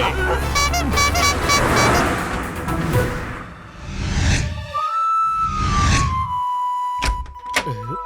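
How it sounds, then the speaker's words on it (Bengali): A vehicle horn sounds with a sustained, slightly wavering tone after loud rumbling noise, with voices talking around it. "বাড়ি থেকে হর্ন বাজায়"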